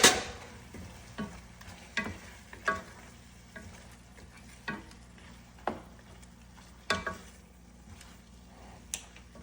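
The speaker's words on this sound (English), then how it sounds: "I'm going to add a little bit of black pepper and give it a good mix." Upma seasoned with black pepper is stirred in a pan, a spoon scraping and knocking in a slow series of distinct strokes over a faint, quiet sizzle.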